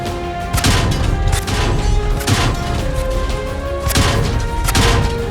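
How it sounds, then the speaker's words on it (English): Low-damage hit sounds on an armored vehicle in World of Tanks: sharp metallic impacts recur about half a dozen times over a steady, loud engine-like rumble, with no talking. "Low damage sounds like this."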